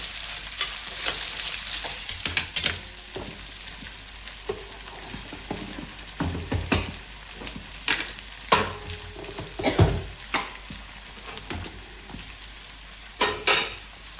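Potato pieces frying in oil in a pan, a constant sizzle broken by repeated scraping and clattering as the pieces are stirred, close by.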